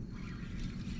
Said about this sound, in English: Listen to that drag.